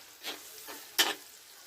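Red chili peppers drop into a hot pan with a soft sizzling hiss and a few stirring scrapes, one sharper clatter near the end, close and fairly quiet with no talking.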